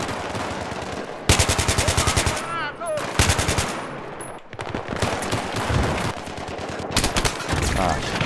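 Sustained automatic gunfire in the video game Battlefield 3, loud rapid bursts of shots in several long strings separated by brief pauses.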